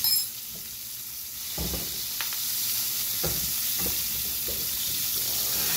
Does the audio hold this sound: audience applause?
no